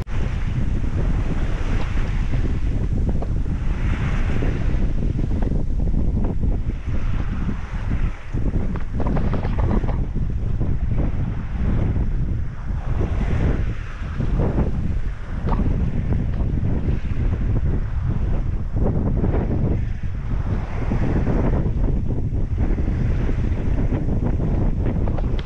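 A sailboat under motor at sea off Sardinia, with a constant loud roar of wind buffeting the microphone and waves rushing past the hull throughout, no voices.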